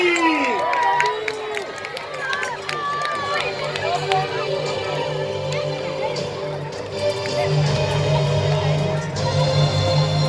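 Spectators at a 1066 Battle of Hastings reenactment cheer and shout as a steady crowd roar, loud and continuous throughout, with voices calling out over the din.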